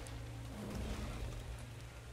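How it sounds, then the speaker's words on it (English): Rain in the video game ARK: Survival Evolved makes a faint, steady wash of noise with a low rumble beneath, continuous and distant-sounding with no speech. "It's raining."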